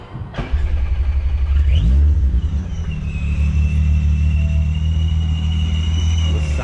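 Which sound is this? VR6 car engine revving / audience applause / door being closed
VR6 car engine revving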